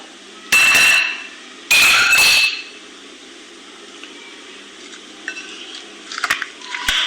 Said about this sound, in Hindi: अब इसको अच्छी तरह मिक्स करके छोड़ देंगे।